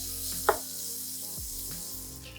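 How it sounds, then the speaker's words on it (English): Plant-based meat crumbles sizzle in a hot pot, a steady close frying hiss with a sharp clatter near the start, likely a utensil against the pot, and a few softer scrapes after. "Ooh, see that sizzle?"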